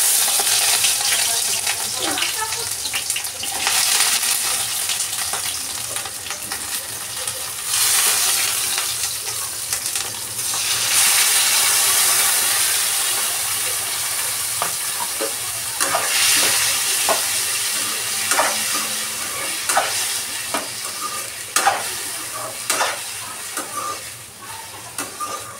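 Food frying in hot oil while being stirred in a pan, a continuous bright sizzle with scattered scraping and clinking from the utensil, close and fairly loud throughout.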